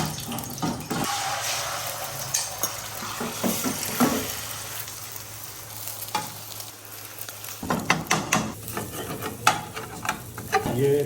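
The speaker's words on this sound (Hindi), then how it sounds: "अलहदा एक पैन लेके इसमें थोड़ा सा ऑयल डालेंगे, एक अदद अंडा, इसमें हल्का सा नमक," An egg frying in a little oil in a pan sizzles steadily with a crackling hiss, broken by scraping and clattering bursts of utensil handling, close and moderately loud.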